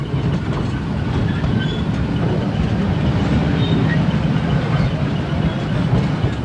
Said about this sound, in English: Who said this train couldn't go in two directions?